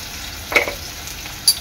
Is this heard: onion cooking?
yes